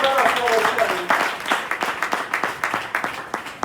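A church congregation breaks into rhythmic clapping, fairly close and steady, with a voice speaking briefly at the start.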